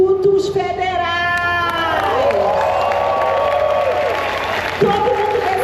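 Crowd at the opening of a national meeting of culture committees in Brazil applauds and cheers loudly and continuously, with whoops, shouts and children's voices rising over the clapping throughout.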